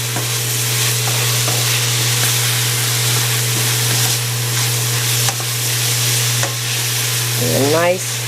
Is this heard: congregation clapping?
no